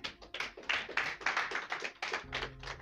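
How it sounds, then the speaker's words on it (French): Sparse audience clapping at an ocean-themed conference, a thin scattering of individual hand claps in irregular bursts, fairly faint, with a low hum joining near the end. "Ne soyez pas timide, applaudissez."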